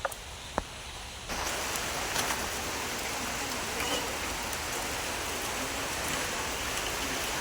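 Rain falls steadily at a goat farm, starting as a couple of faint drips and then swelling into a constant even hiss that continues to the end.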